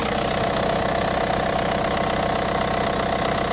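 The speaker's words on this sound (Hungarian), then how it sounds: "És a hangja a motornak." A cold Opel diesel engine with 300,000 km on it idles at minus 19 °C, giving a loud, steady rhythmic clatter and knock with no talk over it.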